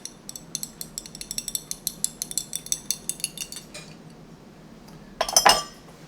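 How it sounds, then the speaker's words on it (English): A glass stir rod clinks rhythmically against glassware while mixing a chemistry lab solution, a steady run of bright taps for several seconds, then a pause and a final louder burst of clinking. "The other way of mixing it is by using a stir rod"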